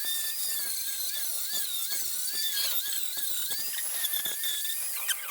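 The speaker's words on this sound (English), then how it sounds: "Clean this up just a little bit with the flat disc" A flat disc grinder whines at a high pitch, steady and loud, as it cleans up metal on the quarter panel of a 1958 Plymouth in a workshop. Gritty scraping crackles under the tone.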